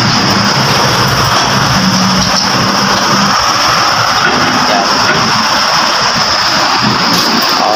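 A GAC GS3 1.5-liter engine runs steadily during a check-up, giving a continuous, fairly loud mechanical drone with a constant high whine over it and no pauses.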